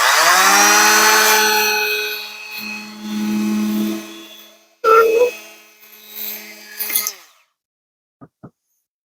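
A Makita LXT cordless power planer mitres a wood corner, with a high whining motor that holds for several seconds and winds down, then brief cutting bursts before it falls silent and two faint clicks follow.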